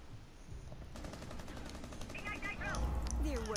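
Rapid gunfire in the Rainbow Six Siege game mode, a fast stream of sharp repeated shots running under ongoing talk, growing louder toward the end alongside excited voices.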